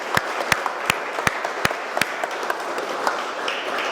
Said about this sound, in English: So please, a sincere round of applause for Steve